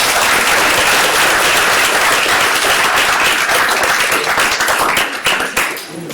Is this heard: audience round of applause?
yes